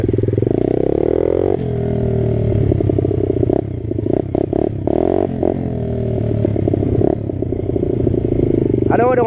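A Yamaha motorcycle engine runs close by, its steady rumble rising and dipping as it is revved, with brief clatter and scraping breaks partway through.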